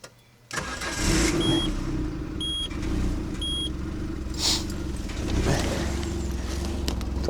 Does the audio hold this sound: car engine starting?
yes